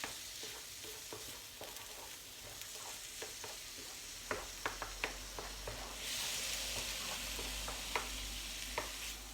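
Soft sizzling in a pan as ingredients for Bolognese sauce are mashed down, with irregular scraping and pressing taps from a utensil, quiet and close.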